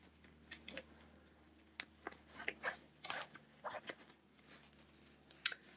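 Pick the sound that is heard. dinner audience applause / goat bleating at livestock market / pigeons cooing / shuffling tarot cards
shuffling tarot cards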